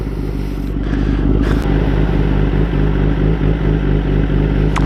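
A motorcycle engine idles steadily and loud up close, with an even low pulsing throb and some light clatter throughout.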